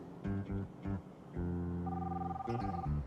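An old pre-cellular car phone rings in a Foxbody Mustang movie scene, a repeated electronic trill in short bursts followed by a longer sustained tone, fairly quiet under faint background sound.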